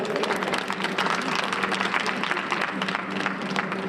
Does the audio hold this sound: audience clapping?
yes